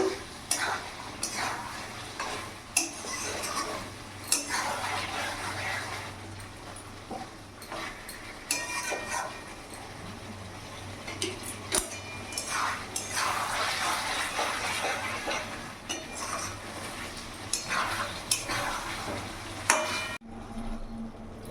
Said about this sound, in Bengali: ভালো করে মিশিয়ে নেব আমি কিন্তু এখনও কোনো রকম জল অ্যাড করিনি